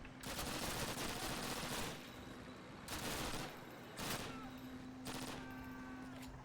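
Gunfire in Call of Duty, several dense bursts of automatic fire separated by short gaps over a constant background hum, with voices under the shooting.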